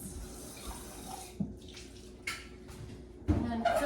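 Running tap water pours steadily into a kitchen sink as a measuring cup is rinsed beneath it, with a few soft knocks of the cup against the basin near the end.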